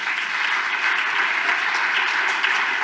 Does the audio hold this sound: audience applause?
yes